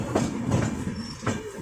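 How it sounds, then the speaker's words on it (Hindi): Train hauled by a WAG-12 electric locomotive, number 60064, rolling along with a soft continuous rumble and a few periodic clacks of wheels over rail joints, fairly quiet. "देखिए गाइस, WAG-12 लोकोमोटिव इंडिया का सबसे पावरफुल लोकोमोटिव है"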